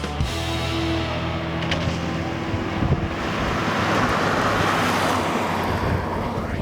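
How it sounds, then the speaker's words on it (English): A Ram 2500 Power Wagon pickup driving off-road, a steady engine drone and rumble blended with heavy wind and road noise, loud and continuous throughout with no talking. "Right now I'm driving the Ram 2500 Power Wagon"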